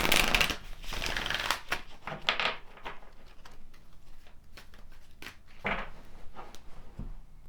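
Tarot cards being shuffled by hand: a series of crisp riffles and soft paper flutters at close range, with short pauses and light taps between bursts, and no talk.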